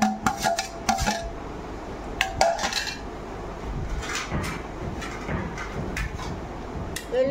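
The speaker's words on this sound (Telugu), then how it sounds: "ఇప్పుడు ఉల్లిపాయ ముక్కలు వేస్తున్నానండి" Chopped onion pieces go into a pan, with sharp metallic clatters of pan and utensil at the start, then scattered lighter clinks and scraping.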